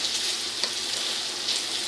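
Thickened katla fish korma gravy bubbles in a pan, a steady soft sizzling hiss with tiny pops throughout.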